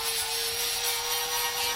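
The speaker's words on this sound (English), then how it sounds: "we're using sanding discs on an angle grinder to remove the paint and any of the rust in the affected areas" Angle grinder fitted with a sanding disc, removing paint and rust from a lawn mower deck: a loud, continuous abrasive whine with a steady high hum, grinding on without pause and with no voices.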